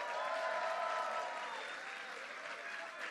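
Applause from an audience at a governor's bill-signing ceremony for LGBTQ rights legislation, sustained steady clapping with crowd noise, full at first and easing slightly toward the end.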